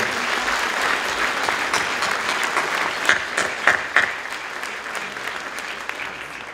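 Audience applause for young elected councillors at a New Year's greetings ceremony in Aubagne, a steady dense roar of many hands clapping throughout with a few louder claps standing out near the middle.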